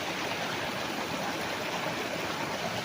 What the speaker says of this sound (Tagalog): So tabi po mismo ng magandang ilog.